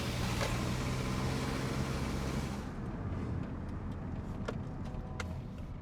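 An older Mitsubishi Galant with an overheating problem drives around the block, its engine and road noise a steady close drone that drops to a quieter idle partway through, with a few small clicks.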